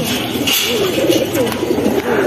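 A very large male pigeon coos in a steady, throaty run of rolling calls, close and fairly loud, continuing without pause throughout.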